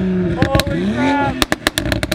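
Rapid sharp pops crackle from a Toyota Supra's exhaust, first a few isolated bangs over a rising engine note, then a quick string of loud close cracks.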